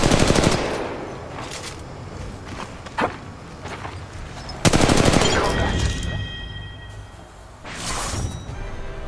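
Bursts of automatic gunfire from an enemy squad in the mobile game Apex Legends Mobile, loud rapid volleys separated by short pauses, with game effects and a voice speaking at times.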